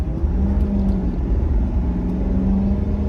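A 2019 Ford F-250 Lariat Super Duty pickup accelerating at about half throttle, a steady low engine rumble and whir heard from inside the cab, with no talk.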